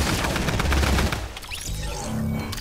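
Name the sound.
gunfire from a P90 in the video game Fortnite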